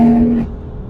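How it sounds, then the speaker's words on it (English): Stage 3 tuned BMW M4 with 600+ bhp and open exhaust valves in sport mode, a loud engine note with a steady tone in the first half that drops away into a lower rumble. "So I've just put the foot down a little bit in the sport mode, obviously where the valves are open"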